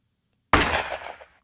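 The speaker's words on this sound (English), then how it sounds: "So just a really dry gunshot" A single dry gunshot sound effect for a shock rifle design cracks sharply after a short silence, then decays quickly with a brief, rough tail and no echo.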